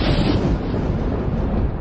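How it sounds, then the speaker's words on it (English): Heavy thunder from the horror film Demon Knight, a loud, dense rolling rumble that fills the whole moment without a break, close and powerful with no voices. "Boy, listen to that thunder."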